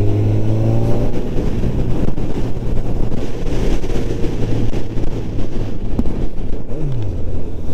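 A 2022 Honda CB 1000 R four-cylinder motorcycle fitted with an IX Race silencer drones steadily under way, its smooth engine note rising and shifting pitch, mixed with heavy wind rush from riding, loud and continuous with no talk.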